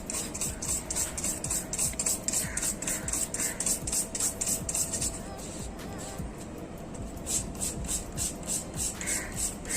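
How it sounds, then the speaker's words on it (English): A steel wire brush scrubbing metal clean before welding, fast rhythmic rasping strokes, close and steady, with a short pause partway through before the scrubbing resumes. "clean the area that need to be welded by using the steel wire brush"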